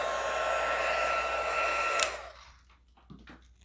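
A heat tool blows a loud, steady whooshing roar while drying a stamped card, then clicks off and the hiss fades, leaving a few soft handling sounds.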